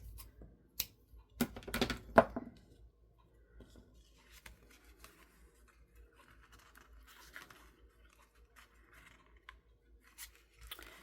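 Scissors trimming ribbon on a papercraft Halloween tag make a couple of quiet close snips, followed by faint scattered rustling and handling sounds.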